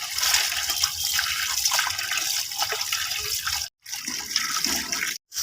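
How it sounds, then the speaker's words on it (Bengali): Spinach leaves are rinsed under a running kitchen tap, the water hissing and splashing steadily and close up, briefly cutting out twice. "এবার শাকটাকে ভালো করে ধুয়ে নেব।"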